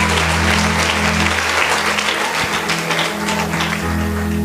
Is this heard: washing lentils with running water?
no